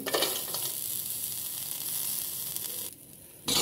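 Raw garlic and black cumin seeds sizzle in hot oil in a pan, giving a steady, close frying hiss that dips briefly near the end before flaring up again.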